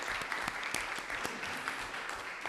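Modest applause from attendees at a municipal council meeting in Montréal-Nord, a short burst of scattered clapping from a small group, fairly quiet and steady throughout.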